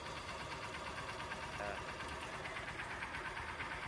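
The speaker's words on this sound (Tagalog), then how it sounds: "Inaandar ko yung makina ng motor ko para kondisyon mamaya pagtakbo mga kaidol" A Supremo 150cc motorcycle engine idles at a steady, even hum, faint and unbroken for a few seconds, with no voices over it.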